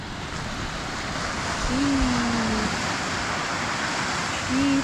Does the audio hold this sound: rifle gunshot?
no